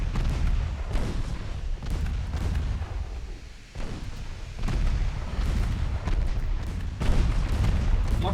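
Torpedoes strike a warship in the naval game Ultimate Admiral Dreadnoughts, a string of heavy booming blasts that roll and rumble. One big impact follows another in bursts, with no one talking.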